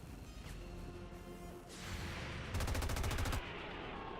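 Gunfire in XCOM 2: a sharp shot near 1.7 s followed by a brief, rapid rattling burst of automatic fire around 2.5 to 3.4 s, set against steady game ambience.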